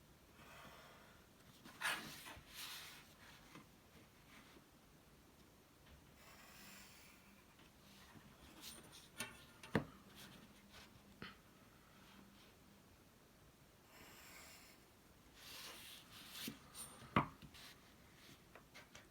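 A pencil draws lines on paper with some pressure, producing faint, scratchy strokes in short bursts separated by quiet gaps and soft breathing.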